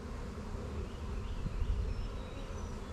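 Honey bees, nurse bees on a hive frame during a colony split, buzz in a dense continuous drone, close and steady with slight swells, no voices.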